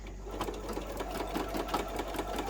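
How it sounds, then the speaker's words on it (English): A sewing machine runs steadily, stitching a fabric wallet with a short back stitch, its rapid needle chatter forming an even mechanical whir with a low motor hum underneath. "I like to do a little bit of a back stitch"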